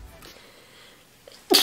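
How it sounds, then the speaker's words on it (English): A single sharp sneeze bursts out at the very end after a quiet stretch with faint breathing. "I have to sneeze."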